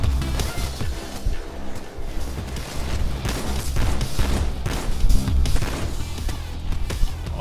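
Dense, continuous gunfire in the video game Payday 2: rapid overlapping shots, thuds and crashes sound close and loud for the whole stretch, with no voices over them.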